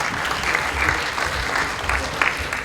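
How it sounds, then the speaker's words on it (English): Audience applause at a Startup Weekend event in Varna, a steady wash of clapping from a room full of people, sustained and fairly close for the whole stretch. "Applause for Pound to Run."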